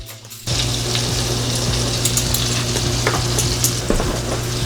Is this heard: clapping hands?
no